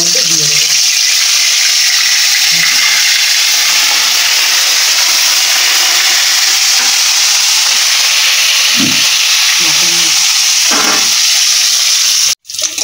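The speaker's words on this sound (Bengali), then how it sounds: "এবারে নুন হলুদ মেখে রাখা শোল মাছগুলো গরম তেলের মধ্যে দিয়ে দেবো।" Snakehead fish rubbed with salt and turmeric sizzle in hot oil, a loud continuous hiss with faint bubbling, steady throughout before a brief cut near the end.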